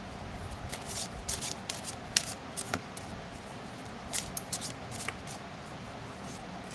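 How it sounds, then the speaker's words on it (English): Close, papery riffling and tapping of oracle cards being shuffled by hand, in uneven bursts of flicks and soft slaps. "Shuffle, shuffle, shuffle."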